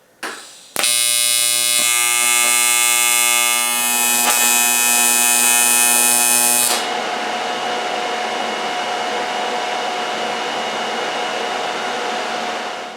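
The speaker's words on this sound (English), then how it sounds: "I'll tack weld it in a couple spots" An electric welder tack-welds steel pieces onto an Indian Larry motorcycle intake. A loud, steady electric buzz runs for about six seconds, then gives way to a quieter hum that fades out.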